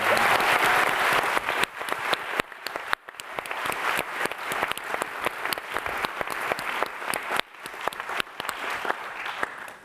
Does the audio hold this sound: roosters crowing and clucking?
no